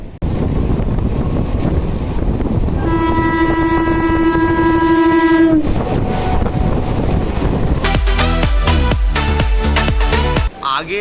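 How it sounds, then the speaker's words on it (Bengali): A loud train rumbles past close by with heavy wind noise, its horn blaring in a long sustained blast midway, followed by rhythmic clattering of wagons. "ও ট্রেন আসছে ট্রেন ট্রেন দেখো"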